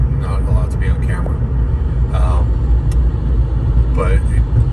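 Small single-seat ElectraMeccanica SOLO electric car driving on the road, a loud steady rumble of motion and road noise throughout, with brief higher whirring bursts.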